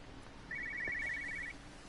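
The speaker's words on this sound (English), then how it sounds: "Right, where's that phone?" Telephone ringing in the video game Everybody's Gone to the Rapture, set in England: a single trilling electronic ring lasting about a second, clear over a quiet ambient background.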